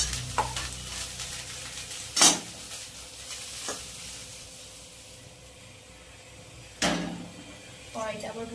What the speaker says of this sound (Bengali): ফুলকপিগুলোও কিন্তু ভাজা হয়ে গেছে, নামিয়ে নেব।